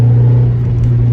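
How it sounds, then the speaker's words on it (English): Steady low engine rumble and road noise from inside a Honda Prelude driving on the street, a constant humming drone heard close up with no talk. "now we're driving on the street"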